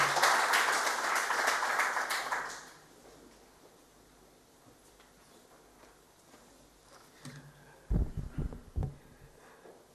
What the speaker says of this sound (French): Je laisse la place à Marc Séphil et à Maurice Larouché sous applaudissements.